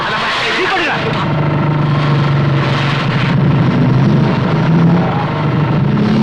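A vehicle engine rumbling and pulling away in a film scene, a loud, steady drone running throughout beneath shouting voices.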